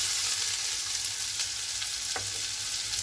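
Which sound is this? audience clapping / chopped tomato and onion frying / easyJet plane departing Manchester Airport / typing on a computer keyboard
chopped tomato and onion frying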